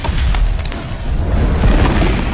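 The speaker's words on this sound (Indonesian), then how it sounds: "api itu pun segera meledak di udara" A fiery explosion bursts in mid-air as a movie sound effect, a loud, sustained rumbling boom that fills the whole clip without any speech.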